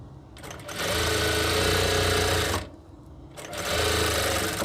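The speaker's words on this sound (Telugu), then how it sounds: "మళ్ళీ ఒకటే లెవెల్ అగైన్ మళ్ళీ స్టిచ్ ఇలా వేసుకోవాలి." A sewing machine runs loud and close while stitching piping, humming in two long continuous runs with a brief stop between them.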